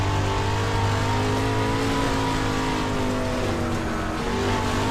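Street stock race car engine in the iRacing simulator, a loud, continuous droning roar with layered harmonic whine, holding steady revs with slight pitch wavering throughout.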